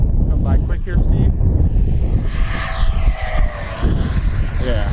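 An FMS Avanti V3 RC model jet with a 3300 Roaring Top motor flies past on a windy day, its ducted-fan whine rising and sweeping over gusty wind noise while people talk nearby.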